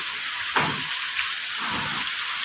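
Steady rain hisses all around, with a couple of soft, low rumbling bumps partway through and no voices.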